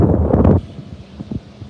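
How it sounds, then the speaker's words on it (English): A strong gust of wind at an Oregon coast beach buffets the microphone in a loud rumbling burst, then drops to lighter, intermittent wind noise. "Yeah, well, it is windy."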